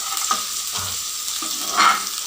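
Garlic and onion fry in a pan for red veggie pasta, giving a steady, close sizzle and splutter with a few louder crackling bursts and no voices.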